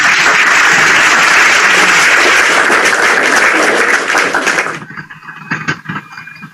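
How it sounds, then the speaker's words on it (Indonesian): An audience at a lecture applauds loudly and densely, then the clapping cuts off abruptly, leaving quieter room sound and a few scattered claps. "Tepuk tangan yang di bawah."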